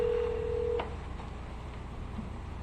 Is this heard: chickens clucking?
no